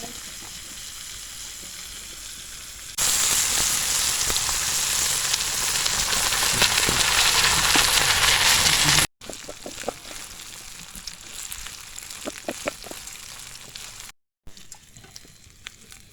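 Rice-field grasshoppers frying in hot oil, a quiet hiss that erupts into a loud, bright sizzle for several seconds, then settles into softer crackling pops after a brief cut.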